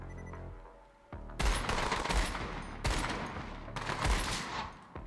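Gunfire from a shooter battle in Borderlands 3 fills the scene: after a quieter opening, loud rapid automatic bursts break out in several long volleys with brief gaps between them, close and dense, and no talking.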